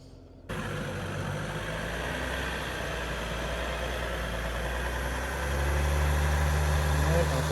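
Off-road vehicle engine in Moab climbing toward a steep rock wall, a steady close idle-like rumble that swells louder and deeper toward the end.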